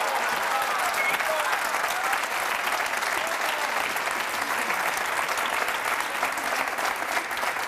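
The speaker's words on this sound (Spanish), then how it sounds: "Un fuerte aplauso para ella" Studio audience of a Spanish television program breaking into steady, full applause that holds at an even, loud level throughout without pause.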